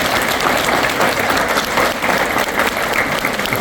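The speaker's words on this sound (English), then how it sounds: "each of these graduates deserve a round of applause for their accomplishment" Audience applause for police academy (BLET) graduates at a graduation ceremony, a dense, steady wash of many hands clapping that holds evenly throughout without a break.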